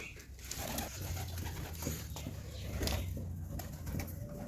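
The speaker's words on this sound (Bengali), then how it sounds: "এখানে পায়রাগুলো খাবার খাচ্ছে" Pigeons feed and coo softly in a loft, with faint low cooing and light pecking against a steady background hum.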